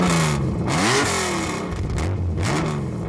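A TVR T350 sports car engine revving hard, pitch climbing and falling through several throttle blips with a rough, throaty growl, loud and close, no talk.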